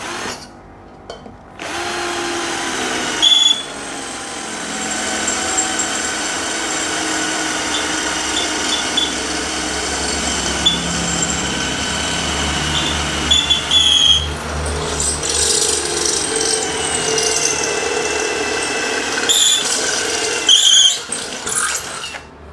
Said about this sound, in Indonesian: Saya menggunakan mata bor 4 mili.